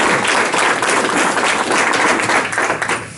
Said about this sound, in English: Let's give Ray one more round of applause